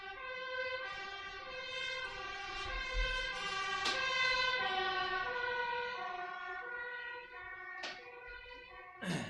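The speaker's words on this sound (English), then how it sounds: "fire truck" A fire truck siren wails in long rising and falling sweeps out in the street, fairly faint and distant, with a couple of sharp horn blasts.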